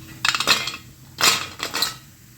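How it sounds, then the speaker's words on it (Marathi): Crispy deep-fried vadis handled in a kitchen, three quick bursts of dry crackling clatter against a pan or plate, close and fairly loud, separated by short pauses. "तर वड्यांचा आवाज बघा तुम्ही"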